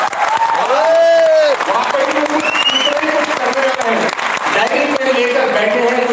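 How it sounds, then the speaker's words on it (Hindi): Seminar audience in Jaipur clapping together, a dense, loud burst of applause that runs the full length, with a voice speaking over it. "आपको आपके लिए ताली बजानी चाहिए"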